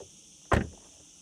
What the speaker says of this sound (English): it's a decent door closing sound